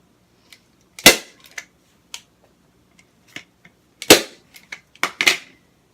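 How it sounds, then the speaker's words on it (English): Staple gun firing upholstery fabric onto a thrift store chair during reupholstering, with several sharp, loud snaps at uneven intervals and small clicks between them in a quiet room. "Here's my, it's actually my husband's staple gun."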